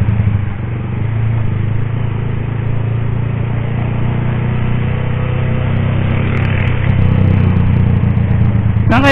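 A Honda Click motor scooter carrying a rider and a passenger runs with a steady, close, droning engine hum that holds fairly even throughout, with no talking.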